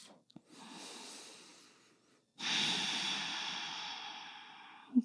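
Slow, deep breaths during a yoga practice: a long soft inhale-like rush, a pause of near silence, then a longer, louder airy exhale, with a brief sniff near the end.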